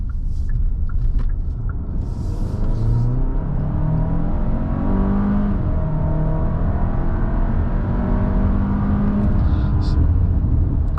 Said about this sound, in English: I'm going to pop into sport here, get a little bit of an acceleration for you guys.